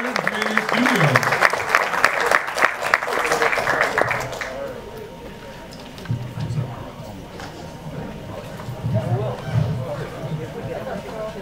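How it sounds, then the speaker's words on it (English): An audience applauds a film's cast at a screening, with dense clapping for several seconds that tapers off into scattered claps and crowd murmur. "One more round of applause for this great cast."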